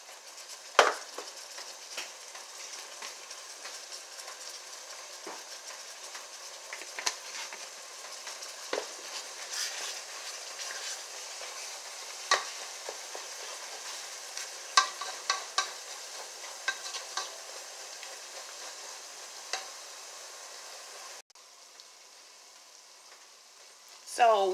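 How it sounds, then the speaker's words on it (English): Ground beef browning in a pan for spaghetti sauce gives a steady, soft sizzle, with scattered scrapes and clicks of a utensil stirring against the cookware, and a brief louder clatter near the end. "So what I've done is went ahead and browned my ground beef."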